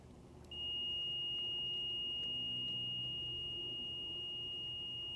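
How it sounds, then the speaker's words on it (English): A multimeter gives a steady high-pitched continuity beep as its two probes touch, starting sharply and holding for several seconds over faint low background hum. "and you should hear a beep."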